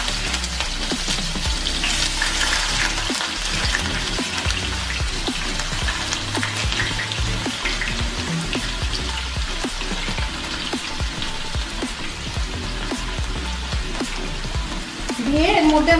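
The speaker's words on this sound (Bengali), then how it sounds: "তেলটা আমার গরম হয়ে গেছে, এবার আমি এর মধ্যে পেঁয়াজ কুচিটা ছেড়ে দিচ্ছি।" Chopped onions hiss and crackle as they hit hot oil, a dense steady sizzle with scattered pops that runs unbroken throughout, loud and close.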